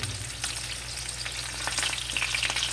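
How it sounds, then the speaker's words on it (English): A thick cowboy steak fries and browns in a hot pan with a steady close sizzle and scattered pops and crackles, and no voices over it. "While I cook my cowboy steak,"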